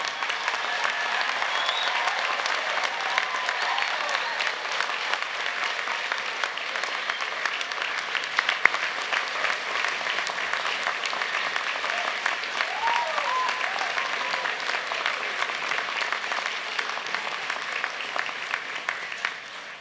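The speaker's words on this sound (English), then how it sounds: "my notes call for enthusiastic applause at this time" Sustained, enthusiastic applause from a large audience at a university graduation ceremony for Faculty of Health graduates, a steady dense wash of clapping lasting the whole stretch with a few faint voices underneath.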